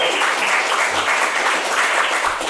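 Loud, close clapping runs steadily for a couple of seconds among a small group of friends on a Dragon Ball podcast, with no talking over it.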